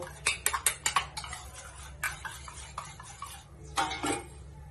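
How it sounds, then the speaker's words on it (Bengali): Eggs with chopped onion, green chilli and salt being beaten in a bowl, a fork or spoon clattering against the sides in quick bursts of clicks, with short pauses between strokes. "ভালো করে ফেটিয়ে নেব।"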